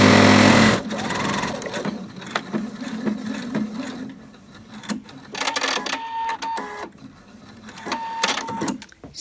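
A sewing machine stitches harem pants with the needle-down function on, running in short bursts with pauses between, close and moderately loud with no talk.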